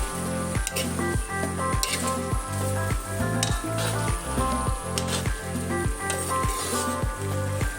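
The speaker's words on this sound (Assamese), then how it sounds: "যেতিয়ালৈকে ভাজিব, তেতিয়ালৈকে ভাজিব যাতে কেঁচা গোন্ধটো যায়।" Spices fry in a hot pan for a paneer curry, a loud, steady sizzle broken by regular, rhythmic bursts of stirring, close and continuous with no talking.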